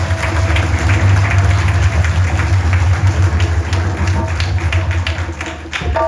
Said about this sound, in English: I want all of us to put our hands together and give Mahadev a nice round of applause.